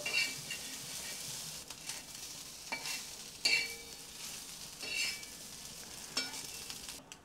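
Bombay duck (bombil) dry fish roasting in a pan makes a soft, low crackle, punctuated by repeated scraping and tapping strokes as the pieces are turned.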